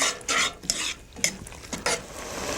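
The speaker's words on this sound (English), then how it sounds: "My onions are continuing to saute beautifully." Onions sautéing in a pan for an Italian onion soup, papa al cipolla, make bursts of sizzling and stirring that rise and fall in several short pulses against a soft frying hiss.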